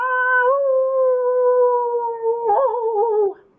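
A human voice imitates a dingo howling in a long, loud, steady wail that bends upward near the end and then cuts off, with no other sound around it.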